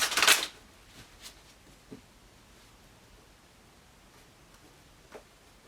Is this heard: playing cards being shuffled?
yes